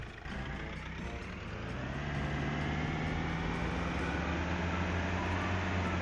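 A vehicle in the video game Sausage Man drives along with a loud, steady engine drone that rises slightly and holds, with no talk over it.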